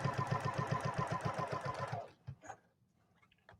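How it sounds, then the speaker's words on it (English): A sewing machine stitching a Christmas table runner, running in a fast, even mechanical rhythm for about two seconds before stopping, followed by a few faint handling clicks. "I think the sound of a sewing machine is so therapeutic."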